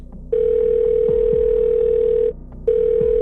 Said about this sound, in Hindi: लिप्सा ने अपना फोन देखा, फिर टिया को कॉल किया।